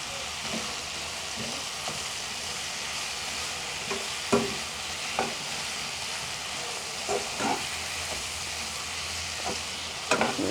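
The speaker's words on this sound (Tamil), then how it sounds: "நன்றாக கலக்கணும்" Chicken biryani masala fries in a pan at home as it is stirred, a constant soft sizzle with occasional scraping strokes and clinks of the spoon, fairly faint and steady.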